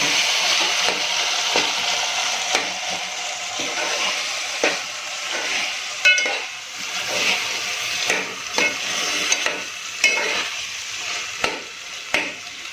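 Mashed tomato and eggplant cook slowly over a low flame, with a soft, steady sizzle and hiss close by, broken by scraping stirs and small spoon knocks against the pot at irregular intervals.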